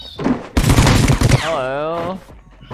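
A loud, rapid burst of automatic gunfire in the video game Rules of Survival lasting under a second, followed by a voice calling out.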